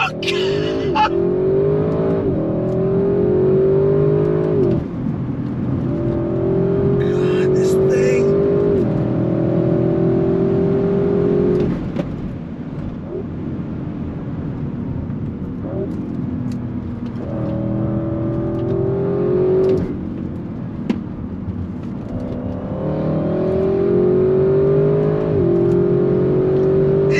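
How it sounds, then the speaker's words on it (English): A 2022 Audi RS6 Avant pulls hard through its paddle-shifted 8-speed, engine note climbing repeatedly and dropping at each gear change, heard from inside the cabin with brief dips off throttle. "manual shifting, going up and down the 8-speed with the paddles. Give it the throttle."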